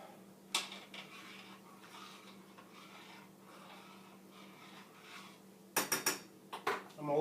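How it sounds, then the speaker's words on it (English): A spoon stirs taco filling in a pot, faint scraping and rubbing throughout, then a burst of sharp clanks and knocks of metal against the pot near the end. "Alright, I'm going to stir it up."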